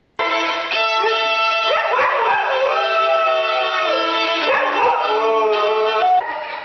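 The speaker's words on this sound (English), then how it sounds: "Here's the dog." A dog yips, whines and howls in a loud, continuous stretch of high, wavering cries lasting several seconds, heard close up with no talking.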